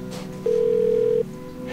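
A single steady ringback tone sounds on an outgoing phone call, clear and level for under a second between short quiet gaps.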